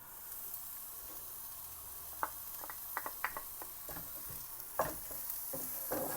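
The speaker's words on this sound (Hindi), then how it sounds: "प्याज को हम थोड़ा सौते कर लेंगे" Onion sautéing in a tablespoon of cooking oil in a pan, a soft, faint frying hiss with scattered light taps and scrapes of a spatula stirring.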